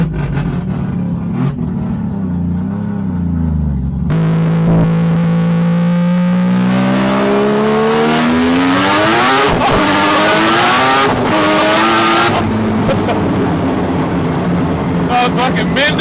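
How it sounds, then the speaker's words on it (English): A Rotor Force Mazda RX-7 with a rotary engine accelerates hard on a ride, heard from inside the car as its loud, buzzing note climbs steeply through the gears, with brief drops at the shifts. Voices can be heard in the cabin over the engine. "we are going to go for a ride with the Rotor Force RX-7"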